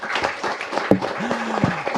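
Studio audience clapping on a village development talk show, a short spell of moderate applause with a brief tonal hum and clatter mixed in partway through.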